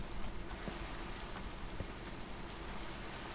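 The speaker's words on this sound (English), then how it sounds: "it's always raining during every court session or master meeting" Steady rain in the Minecraft video game, a dense even patter of raindrops, constant and moderately loud with no talk.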